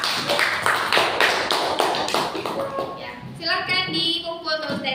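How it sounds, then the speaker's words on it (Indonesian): A classroom full of students claps for a student group, a quick patter of many hands up close that fades out, with a voice talking over the end. "tepuk tangan untuk temannya"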